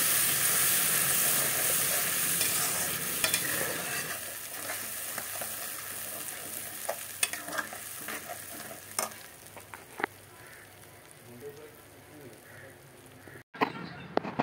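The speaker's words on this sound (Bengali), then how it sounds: "মশলাগুলো ভালো করে কষিয়ে নিই" Spices frying and being stirred in a pan for a vegetarian curry with potatoes, a loud continuous sizzle that gradually quietens, broken by scraping spatula strokes and clinks near the end.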